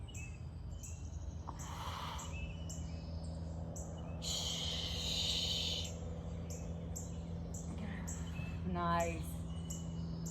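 Birds singing outdoors during a workout, faint chirps and short trilling calls scattered through the background over a steady low hum, with a brief spoken word from a nearby person.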